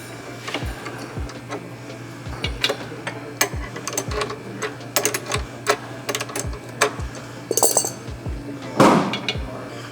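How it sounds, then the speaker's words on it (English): An adjustable wrench works a 6 mm bolt loose, giving repeated close metallic clicks and taps at an irregular rhythm over a steady low hum, with a louder clink near the end. "unscrew this bolt, 6 millimeter. And an adjustable wrench works just fine."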